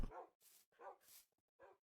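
Spotted, hyena-like dog creatures in a Minecraft world give several short bark-like yips in quick bursts, separated by brief silences and close up.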